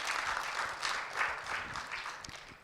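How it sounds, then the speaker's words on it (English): An audience at a conference session on neglected tropical diseases in Africa applauds the speakers. The clapping is brief and faint, a soft wash with slight surges over a couple of seconds. "A big clap for you again"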